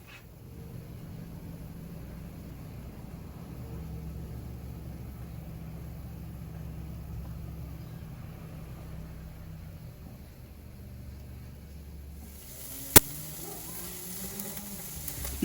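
Burgers sizzling over a Weber kettle grill, a steady low crackle and hiss held close for a long stretch, ending with a sharp single click.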